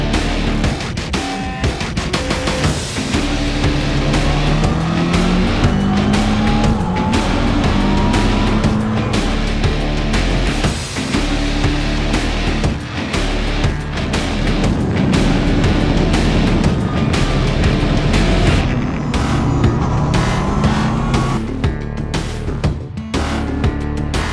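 Race cars roar away at the start of a rainy eight-hour endurance race at the Nogaro circuit, a loud dense wall of engine noise with revs rising and cars passing close, continuous for the whole stretch.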